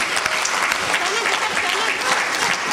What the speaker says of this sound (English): Once more, a big round of applause for these lovely kids with a lovely thought and with a lovely theme dance.